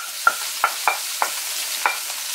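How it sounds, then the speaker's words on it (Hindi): Tomatoes, green chilies and onion fry in a pan while a utensil stirs them, giving five sharp scraping clacks over a soft, constant sizzle. "अब डालेंगे ये 2 छोटे साइज के टमाटर थे, 4 से 5 ग्रीन चिली और 1 बड़े साइज का प्याज ये इसमें डालेंगे।"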